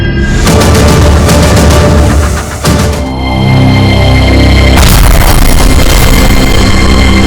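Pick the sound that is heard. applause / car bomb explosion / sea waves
car bomb explosion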